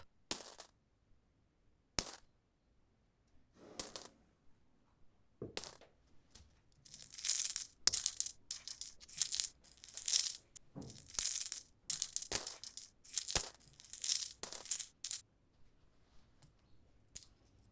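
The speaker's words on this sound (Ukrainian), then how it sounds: "передав йому пригоршню мідних срібних монет, всі гроші, які мав." Copper and silver coins clink and jingle, a few sparse drops first, then a busy run of overlapping chinks and rattles as a handful is poured and sorted, close by.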